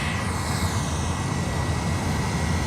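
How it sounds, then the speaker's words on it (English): An American Airlines Airbus A321 arriving at Fort Lauderdale produces a continuous, broad jet roar with low rumble, heard steady and fairly loud throughout with no voices. "This arrival is American Airlines Flight 469 from Charlotte, North Carolina."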